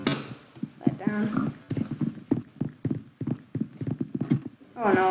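Horses trot with repeated hollow clip-clop hoofbeats in a Minecraft Hypixel game, the steady rhythm running throughout, with a brief whinny near the start and another toward the end.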